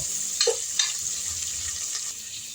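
Sliced onions fry in a pan with a soft, steady sizzle, broken by a few brief clinks and scrapes of stirring near the start, close and fairly quiet, with no talk.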